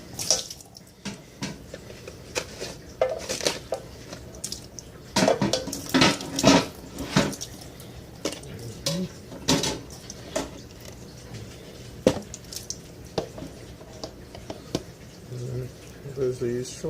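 Plastic clattering and knocking as a Vinbrite Mk3 wine filter kit is pulled apart at a sink, with scattered close handling clunks and brief water sounds under occasional talk.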